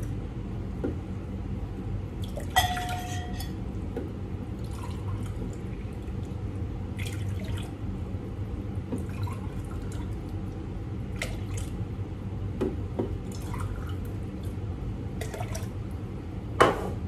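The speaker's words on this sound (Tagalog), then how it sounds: "Lagyan natin ng tubig." Water is poured into a pot of stuffed grape leaves cooking with sugar and tamarind, a soft continuous trickle and splash with occasional drips, moderately close and steady throughout.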